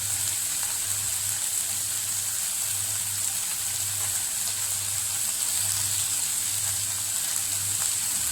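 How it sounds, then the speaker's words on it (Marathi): Water sizzling in a hot pan of vegetables for vermicelli upma, a steady close hiss with a low hum underneath, no voices. "आता ह्याच्यामध्ये आपण पाणी टाकणार आहे."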